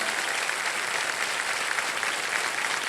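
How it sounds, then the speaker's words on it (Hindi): Studio audience on the game show Kaun Banega Crorepati claps for a contestant, a dense, even wash of applause from a large crowd that holds steady throughout. "आप सब लोग ताली बजा दीजिए स्नेहा जी के लिए"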